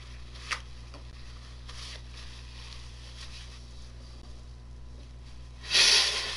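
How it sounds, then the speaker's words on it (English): A person with allergies blowing their nose, one short loud honking blow near the end after a long quiet stretch with a faint sniff early on, close to the microphone. "If you can hear me blowing my nose"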